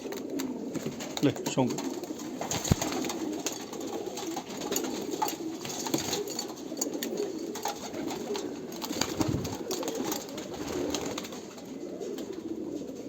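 Sialkoti pigeons coo steadily close by through most of the stretch, a continuous low burbling with someone talking over it now and then.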